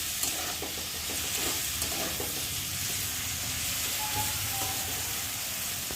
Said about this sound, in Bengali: তার আগে চিংড়ি মাছটা ভালো করে ভেজে নিই